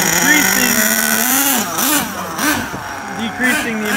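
The small nitro engine of a Tamiya TA02SW RC car runs near idle while being tuned, a thin, steady high-pitched buzz that carries on underneath continuous close talking.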